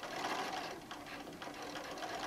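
A sewing machine stitches straight across a fabric wine bottle bag, a close, continuous fast mechanical whir with a slight rhythmic patter, running steadily with no talk over it.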